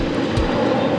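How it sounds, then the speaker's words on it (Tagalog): An airplane passes near Manila International Airport as a continuous, loud, broadband roar, heard from the beach for about a second. "It's a plane!"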